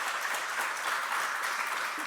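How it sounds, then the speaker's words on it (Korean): Korean church congregation clapping to welcome visiting guests during a Sunday worship service, a brief, steady wash of many hands applauding at moderate volume for about two seconds. "우리 박수로 환영하시겠습니다."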